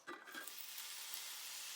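Lobster mushrooms hitting hot olive oil in a cast iron skillet, a brief stirring clunk followed by a steady, hissing sizzle of frying, close and alone.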